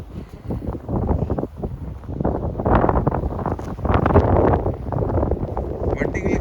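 Strong wind in a heavy snowstorm in Toronto, Ontario, roaring and buffeting close to the microphone in steady surging gusts throughout.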